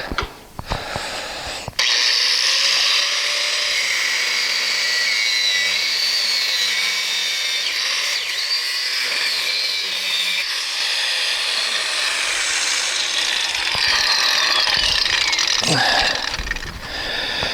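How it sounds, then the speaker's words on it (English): A power saw blade cuts through a steel lock with a loud, sustained high-pitched grinding whine lasting many seconds, starting abruptly after some brief handling noises and fading out near the end. "I just want to cut off that lock."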